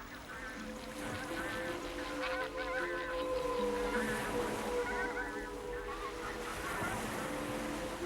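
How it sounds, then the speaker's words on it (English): Small brent geese on shallow coastal water give a flock of overlapping honks and gabbling calls over the steady wash of waves, moderately close, with a voice talking faintly underneath. "Brents are our smallest wild goose to overwinter here."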